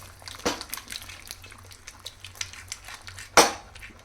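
A spoon stirs fish curry with green masala paste and water in a metal pot, scraping and clinking irregularly, with one loud knock near the end.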